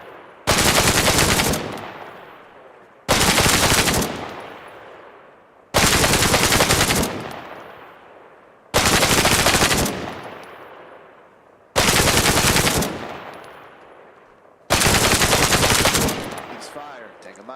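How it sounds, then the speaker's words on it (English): A machine gun fires six controlled bursts on a training range, each a loud, dense roar of about a second followed by echoing decay and a brief pause, close and evenly spaced. "I want you to show them how you handle controlled bursts with an MG"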